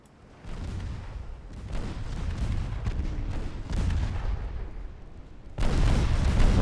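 Naval guns firing in a game battle between 1895-era warships, a run of deep, heavy booms rolling into one another in a dense barrage. A fresh, louder salvo crashes in near the end, with no voices over the din.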